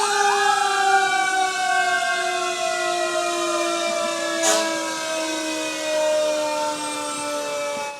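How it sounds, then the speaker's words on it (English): Several fire truck sirens wail together in long, overlapping tones at an Independence Day parade, loud and continuous, with a brief horn-like blast partway through. "The kids love the sirens and the horns, as you see."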